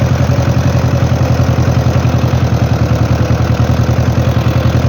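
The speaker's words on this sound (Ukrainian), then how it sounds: "Такий от тракторець" A tractor engine idles steadily at close range, a deep, even rumble with a fast rhythmic throb throughout.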